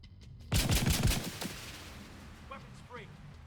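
A dense rattling burst of automatic gunfire from a video game erupts suddenly, loud and rapid for about a second, then trails off into fainter shots and echoes while a voice briefly speaks afterward.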